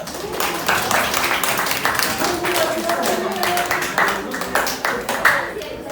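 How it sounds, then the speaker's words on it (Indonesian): Students in a classroom clap for a group that has just finished presenting, a brisk burst of many hands with dense irregular slaps at an even level, while a voice speaks over the clapping. "bisa tepuk tangan buat teman kalian"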